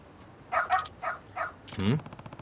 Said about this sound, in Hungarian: Tehát elkezd ugatni, ugye, és akkor kiírja